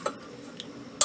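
A few light clinks of a utensil against a dish as cooked red lentil dal is transferred into a bowl, then a brief louder scrape at the end, close by with no talking.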